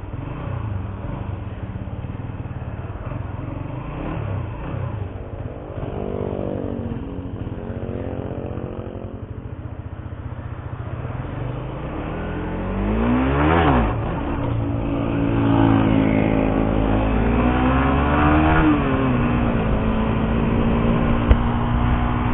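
Busy road traffic streams past near a housing construction project on a former circuit track, with motorbike and car engines rising and falling as they go by, one loud pass building around the middle.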